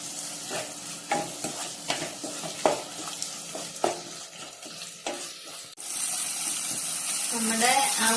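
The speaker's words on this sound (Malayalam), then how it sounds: "നന്നായിട്ട് ഇങ്ങനെ നമ്മൾ ഇളക്കിക്കൊണ്ടിരിക്കണം." Onions stirred in a pan over a medium gas flame: a steady sizzle broken by irregular scraping knocks of the spoon, with a sudden brighter, louder hiss taking over near the end.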